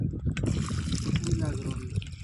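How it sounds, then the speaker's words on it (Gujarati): A full bucket of water is poured onto the base of a tree, giving a soft, uneven splashing trickle that runs for a couple of seconds while someone talks over it. "તો આપણે છે ને પૂરી ડોલ પાણી પાઈ દેવાનું છે બરાબર."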